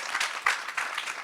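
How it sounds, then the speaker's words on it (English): Audience applauding during a corporate partnership announcement between a beer brand and a football club, a brief, moderately loud patter of many clapping hands with a few sharper claps. "And folks, please, another round of applause."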